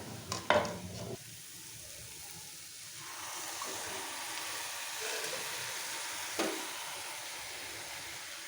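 Marinated chicken drops into a hot pan with a few clattering knocks, then settles into a soft, steady frying sizzle that swells slightly, fairly quiet and close, with one more clack later.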